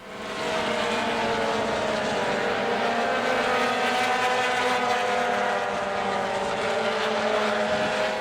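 Race cars in an SCCA road race at the June Sprints, heading into a turn in the EP, FP, HP and GTL classes; a steady, dense engine roar holds at a constant level for the whole stretch, several cars blending together from a moderate distance.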